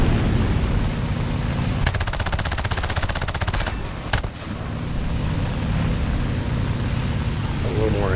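Rapid machine gun bursts ring out from a Ki-10 biplane in a War Thunder air battle, two distinct volleys over a continuous loud engine drone.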